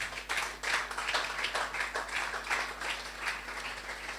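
A congregation at a French-language church service breaks into sustained applause, a dense wash of clapping that rises and falls steadily for several seconds, moderately distant and without talk.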